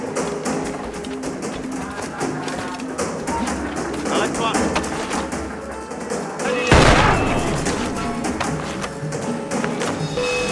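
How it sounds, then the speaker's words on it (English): Blunderbuss blasts and gunfire ring out in the Assassin's Creed Freedom Cry video game during a plantation fight. There are dense, repeated cracks and one heavier boom midway, all under a narrator's voice. "it's best to use the blunderbuss, Adewale's powerful new weapon"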